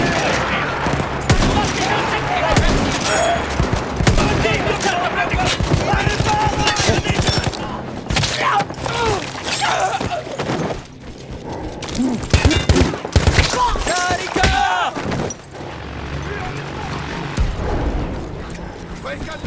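Machine gun fire in the Battlefield 1 video game: dense, rapid bursts of shots and explosions, loud and continuous, with voices talking over the battle.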